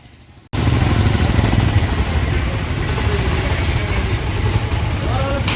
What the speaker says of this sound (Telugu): కట్ చేసిన తర్వాత అలా టచ్ చేసేసరికి బండి స్టార్ట్ అయిపోయింది.